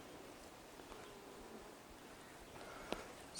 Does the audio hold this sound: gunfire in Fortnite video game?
no